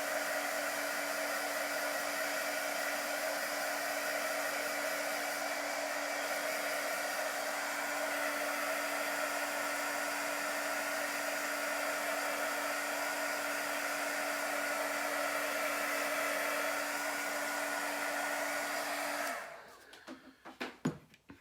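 A heat gun blows steadily on a metal globe, drying a chalk transfer, a loud continuous whoosh with a low steady hum that runs unbroken for about nineteen seconds before cutting off, followed by a few faint handling knocks.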